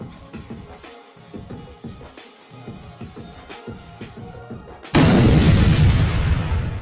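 A firecracker bomb goes off with a sudden loud boom after several seconds of quieter rhythmic background sound, then a sustained roaring rumble fills the rest.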